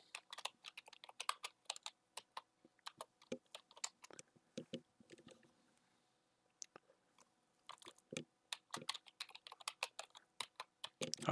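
Keys on a computer keyboard are tapped in quick bursts while a password is typed, close and crisp clicks with a brief pause in the middle before typing resumes.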